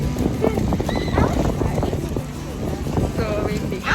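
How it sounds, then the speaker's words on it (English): Strong wind buffets the microphone at a farm, a constant low roar and rumble under overlapping voices of adults and children talking throughout. "So windy."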